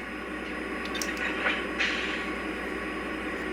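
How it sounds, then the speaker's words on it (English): A Norfolk Southern Dash 9 model train set plays its uncoupler sound effect, a steady rail-like rumble from a small speaker with a few brief hissing and clanking bursts in the middle, close and moderately loud, no talk. "And it has a uncoupler sound."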